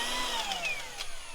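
A drill drives a large Parkside countersink bit into wood, a steady high whine with falling tones and a few rough grinding bursts, loud and close, with no voices.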